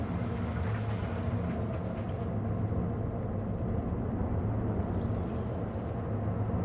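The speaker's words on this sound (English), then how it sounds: "Give me a train." Rumbling train passing through a western-themed theme park in a park-building video game, a steady continuous roll with low mechanical drone filling the whole stretch, heard alone without talk.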